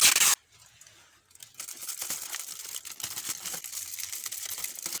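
A sharp burst of adhesive tape ripping off a roll, then a stretch of crinkly rustling and sticky crackling as it is pressed down over foil.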